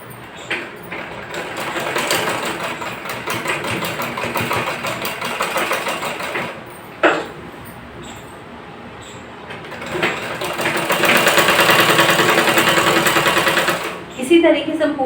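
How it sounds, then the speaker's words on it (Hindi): A sewing machine stitches a side chain into a ladies' pant, running in a steady close whir, pausing briefly, then picking up for a longer, faster run. "ये एक सिलाई लगा देंगे।"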